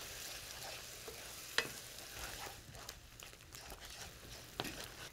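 White wine reducing in a pan after cooking chicken and mushrooms, with faint steady bubbling sizzle and scattered scraping and tapping of a utensil across the bottom.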